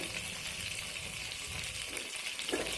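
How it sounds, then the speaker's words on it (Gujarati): Cumin seeds crackle and sizzle in hot oil for a steady, close frying hiss, with a brief stir or clatter near the end. "આપણે જીરું નાખીશું"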